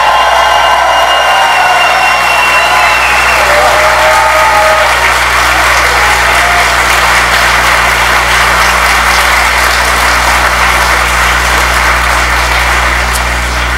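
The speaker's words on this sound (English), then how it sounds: "Let's give a nice round of applause for the fantabulous magician known as Mr. James Randi." Applause from a convention audience at Dragon*Con 2012 greeting the magician James Randi, a steady broad wash of clapping that holds for the whole stretch beneath a constant low hum.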